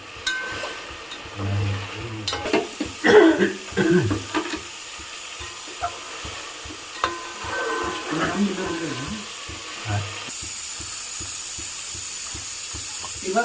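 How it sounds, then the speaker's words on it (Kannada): Chicken skin fries in a pan with a steady crackling sizzle, broken by stirring and scraping, while people talk nearby. "ಚೆನ್ನಾಗಿ ಫ್ರೈ ಮಾಡು"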